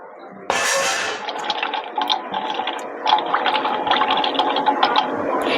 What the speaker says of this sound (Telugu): తర్వాత మళ్ళీ కొంచెం వాటర్ పోసుకుని